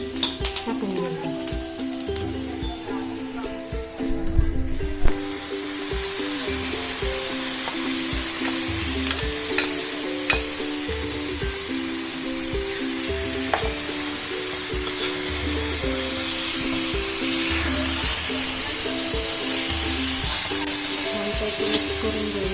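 Food fries on a hot tava (griddle), a constant close sizzle with scattered stirring scrapes, starting softer and building to a fuller hiss over a faint steady tonal background.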